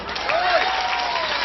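An audience claps steadily through a religious sermon, a dense and continuous round of applause with crowd murmur mixed in.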